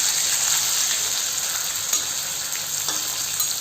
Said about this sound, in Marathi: चला आता उलट पुलट करून घेऊ आपण माशांना